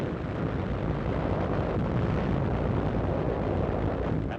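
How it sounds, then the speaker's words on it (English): Artillery shells pound Japanese positions near Yonabaru in a 1945 combat newsreel, a dense, continuous roar of explosions and rumbling blasts that never lets up, loud and unbroken with no voices. "Artillery shells score direct hits on Japanese positions"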